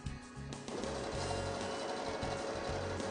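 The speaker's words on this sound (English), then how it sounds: "I'm just sewing really close to the edge, and now each panel is hemmed." A sewing machine stitching a hem close to the edge of a fabric panel, a steady loud mechanical whir running continuously after a brief start.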